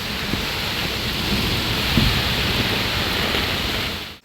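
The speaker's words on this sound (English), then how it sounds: "My gosh, I see rain and blow." Heavy hurricane rain and strong wind during Hurricane Melissa near Kingston at night, a loud dense continuous roar of downpour and gusts filling the whole stretch without voices, cutting off abruptly at the end.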